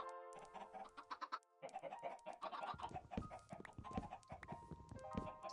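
Minecraft chicken clucking in a video game, a run of short, close clucks and squawks repeating steadily over a few seconds with no talk.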